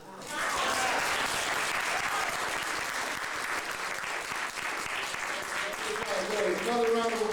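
Following a poetry reading at a San Francisco event, an audience bursts into sustained applause, a continuous wash of clapping from a crowd, with voices rising over it near the end.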